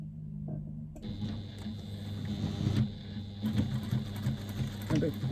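A sewing machine stitches slowly through many thick layers of fabric for a bag at a short stitch length; after a quiet start, a close, steady mechanical whirr with rhythmic needle thumps runs to the end.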